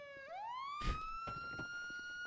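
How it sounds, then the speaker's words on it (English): A police car siren wails in the NoPixel video game, a single rising tone that climbs and holds steady, close and clear with a brief thump partway through. "Turn off the siren. One of them's still on."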